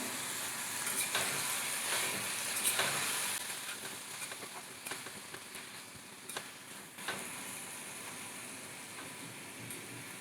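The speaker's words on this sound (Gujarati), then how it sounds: "ટામેટાં સરસ રીતે ચડી જાય ત્યાં સુધી આ રીતે સાંતળવાનું છે" Tomatoes with turmeric, salt and red chili powder sauté in a pan for dhaba-style kaju masala, giving a steady soft sizzle and hiss with occasional faint clicks of stirring.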